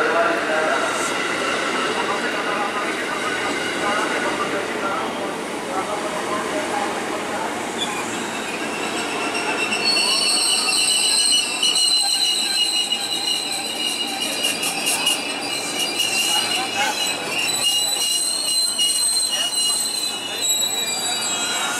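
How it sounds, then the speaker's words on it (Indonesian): A KRL commuter train from Rangkasbitung shunts slowly through a large station to platform 5, with loud, sustained wheel squealing and metallic screeches, steady rumble throughout, close by. "ini KRL dari arah Rangkas langsir menuju peron 5"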